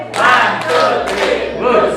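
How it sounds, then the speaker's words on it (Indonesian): Group applause at a school teacher training session, two or three short bursts of clapping from a crowd, loud and close. "Tepuk tangan."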